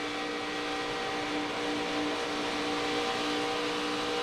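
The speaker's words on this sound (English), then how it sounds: "he's just managing that distance by playing with the throttle" Race truck engine in the draft at Daytona during a NASCAR Truck Series race, a continuous loud droning roar with steady tonal whine and no clear lift, heard from inside or close to the vehicle without talk.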